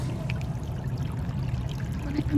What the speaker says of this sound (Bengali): এই দেখেন স্রোত যদি আপনাদেরকে দেখাই এই স্রোতটা আমার কাছে খুবই ভালো লাগতেছে